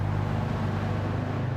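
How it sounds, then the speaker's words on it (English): Race car engine in Gran Turismo 7 at Tsukuba circuit, a loud, steady droning hum with strong low harmonics, held at a constant pitch throughout. "I love the sound of that engine."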